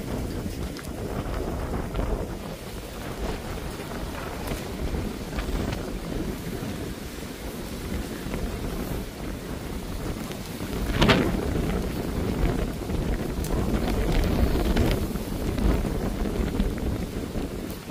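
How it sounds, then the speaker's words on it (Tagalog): Strong wind roars steadily outdoors with a light rain, its dense rushing noise swelling into a louder gust partway through, with no voices. "Konti yung ulan pero sobrang lakas ng hangin."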